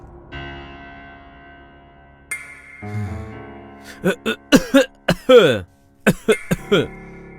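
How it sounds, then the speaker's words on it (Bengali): An older man coughs in a short run of quick, rough bursts after a stretch of sustained musical tones in a Bengali crime drama scene, close and fairly loud. "ওই একটু কাশি আসছে"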